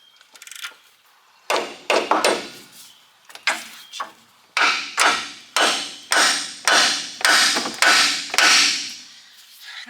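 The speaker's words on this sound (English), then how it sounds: "remove the nut and then hit it with a hammer to get it to pop off" A hammer strikes a sway bar link on a 2005 Cummins truck to pop it off after the nut is removed. The sharp metallic blows are loud and close, at first irregular and then in a steady run of about a dozen evenly spaced hits.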